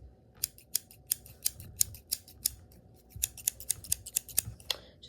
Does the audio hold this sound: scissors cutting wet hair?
yes